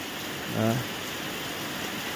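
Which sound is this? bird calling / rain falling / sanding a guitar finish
rain falling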